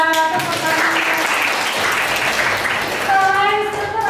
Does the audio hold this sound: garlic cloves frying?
no